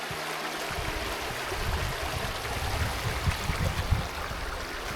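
A river flows past a campground in autumn, a steady, close rushing and gurgling of water with low rumbling undertones, continuous and without talk.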